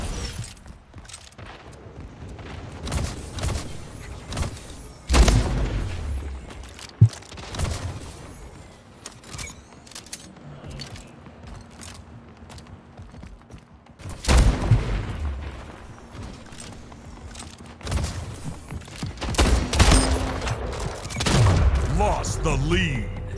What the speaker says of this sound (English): I get shotgunned.